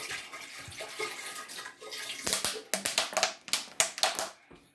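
Water dumped out of a plastic bottle, faint gurgling at first, then a run of sharp glugging splashes in quick succession toward the end, heard alone without talk.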